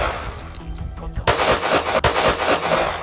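M1911 pistol gunfire in GTA VI, a string of sharp loud shots in quick succession, close, beginning after a quieter lead-in with a couple of softer clicks.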